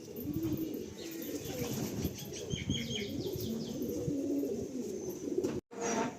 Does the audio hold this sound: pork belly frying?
no